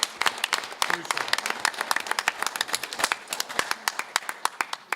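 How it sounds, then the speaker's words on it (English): An audience at a Vicksburg Community Schools board meeting gives a round of applause: close, crisp hand claps in a busy, uneven patter that thins slightly toward the end. "So a big round of applause for that."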